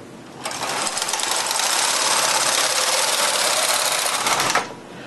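A knitting machine carriage is run across a row of a ribbed lilac baby blanket, making a steady, loud mechanical whirring rush that lasts several seconds before stopping abruptly.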